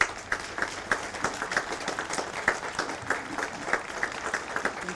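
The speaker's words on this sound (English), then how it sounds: "Let's give him a round of applause." Applause at a Congressional Gold Medal award ceremony honoring a veteran, a scattered round of claps from a modest audience, steady and moderately loud for about five seconds, with sharp individual claps standing out.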